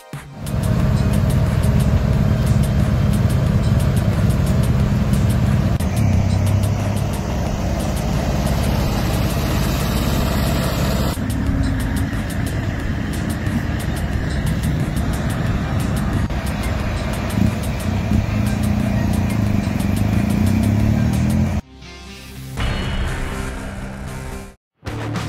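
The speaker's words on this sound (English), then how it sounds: "requires a coordinated effort of prime movers both at the front and rear" Heavy-haul prime mover trucks, including a Hyundai 6x4 tractor unit, drone steadily while hauling a colossal load. The engines rumble loud and continuous at close range, and the sound briefly drops away near the end.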